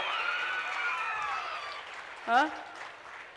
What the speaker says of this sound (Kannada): ಎಲ್ಲ ಕಡೆಯಿಂದ ಚಪ್ಪಾಳೆ ಮತ್ತೆ ಚಪ್ಪಾಳೆ